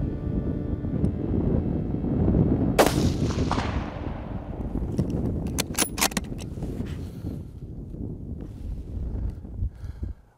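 A single sharp rifle shot rings out during a deer hunt on Anticosti Island, fairly close and loud, followed by a fading tail and wind buffeting the microphone throughout.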